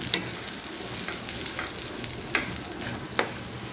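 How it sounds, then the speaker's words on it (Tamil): Ladle pressing and mashing potato masala in a hot pan with coriander leaves, a steady sizzle throughout broken by a few sharp scraping taps, close and alone without voices. "அந்த ஹீட்டில் நீங்கள் அந்த கரண்டி வச்சு ப்ரெஷர் கொடுத்து அழுத்தும் பொழுது அந்த உருளைக்கிழங்கு மசியாமல் இருக்கிறது நல்லா மசிஞ்சிடும்"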